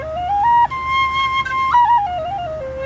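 A handmade 4-hole Native American flute plays a scale, clear breathy single tones stepping up and then back down in a smooth sequence, close and fairly loud with no talking.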